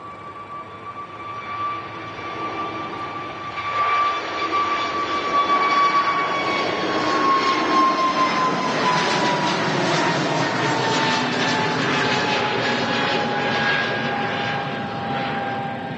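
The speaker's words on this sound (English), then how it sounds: "goes an EasyJet A320neo. Hotel Papa on the reg. Heading off to Barcelona already." An EasyJet Airbus A320neo airliner takes off from Manchester Airport, its jet engines building from a distant whine into a loud, sustained roar with a steady high tone that slowly drops in pitch as it climbs away.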